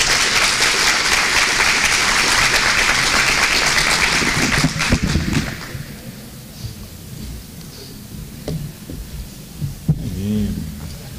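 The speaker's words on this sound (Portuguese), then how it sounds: "vamos receber com uma salva de palmas" A conference audience gives loud, sustained applause to welcome a speaker for about five seconds. The clapping then dies away into quieter room sound with a few scattered noises.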